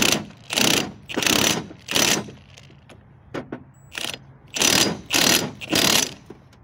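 An impact wrench hammering a nut onto a cardan driveshaft during a u-joint and bearing replacement, several loud rattling bursts close by, separated by short pauses and a few light clicks.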